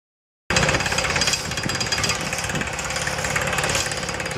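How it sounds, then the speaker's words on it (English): Pneumatic pile drill with compressed air and water hammering a bit into rock while building a wharf: loud, continuous rapid percussive rattling with engine drone, steady throughout after a brief silent start. "Compressed air and water are used to drive the hammer and the drill and to cool the drilling bit."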